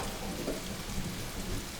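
Steady rain pours down in an even, close, unbroken patter, with no voices over it.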